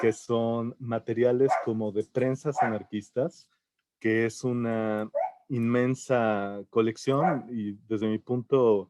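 Dogs barking in the background at a speaker's home, heard intermittently under continuous Spanish speech from a person presenting a collection.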